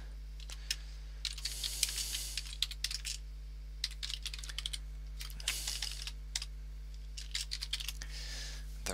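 Keys clatter on a computer keyboard in quick, uneven bursts of typing with short pauses between them, close and fairly quiet over a steady low electrical hum, with no voices.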